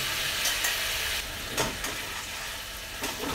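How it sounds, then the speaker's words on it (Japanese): Steady crackling sizzle of eggplant deep-frying in plenty of hot oil, with a few brief clatters and stirs, close and continuous. "ナスは別の鍋で揚げます。"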